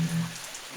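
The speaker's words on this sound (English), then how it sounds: "So, it's raining," Rain falls steadily in a brief, soft, even patter with no voices.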